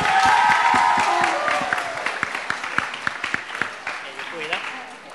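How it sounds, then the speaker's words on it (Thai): Audience applause at a Tower Records reunion event in Thailand, a dense wash of clapping that starts loud and gradually thins out, with a voice speaking over it. "ขอเสียงปรบมือด้วยนะฮะ"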